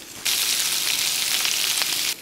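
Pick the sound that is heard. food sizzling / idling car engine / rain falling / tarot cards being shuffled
food sizzling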